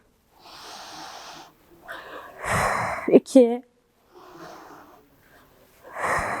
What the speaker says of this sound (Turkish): Burnumdan derin nefes alıyorum.